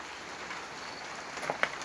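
Steady rain falls outside a sheltered covered area at Wat Pong Chai in Chae Hom, a soft continuous hiss with a couple of faint drips or taps near the end.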